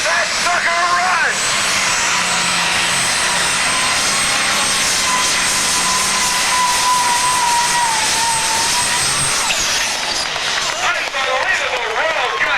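A super/pro pulling tractor's triple-turbocharged engine runs at full fuel at a tractor pull show, a loud, steady, jet-like roar with a high turbo whine that holds for ten seconds before shifting pitch, with an announcer talking over it.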